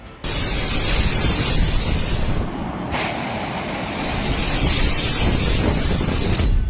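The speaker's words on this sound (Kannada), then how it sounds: "ಕ್ಷಣ ಕ್ಷಣಕ್ಕೂ ಸಮುದ್ರ ಪ್ರಕ್ಷುಬ್ಧವಾಗ್ತಾ ಹೋಗ್ತಿದ್ದು ಅಲೆಗಳ ಆರ್ಭಟ ಜೋರಾಗ್ತಾ ಇದೆ" Strong cyclone wind buffets the microphone over the roar of heavy sea waves on the Andhra Pradesh coast during Cyclone Montha, a loud continuous rush with a brief lull midway and no voices.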